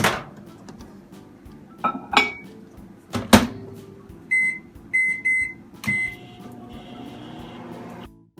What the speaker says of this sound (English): Now we're just going to pop this into the microwave for 1 minute.